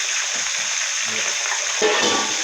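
Fish fries in a pot during Jamaican home-style cooking, giving a steady, close hiss and sizzle with a louder crackling swell near the end.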